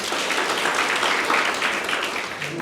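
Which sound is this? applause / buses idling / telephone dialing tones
applause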